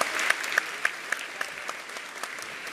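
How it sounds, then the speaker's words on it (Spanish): Schoolchildren applauding at a school infrastructure handover: a soft wash of many small hands clapping, with a few stronger rhythmic claps standing out before it thins and fades, heard at a moderate distance. "Fuerte las palmas, por favor."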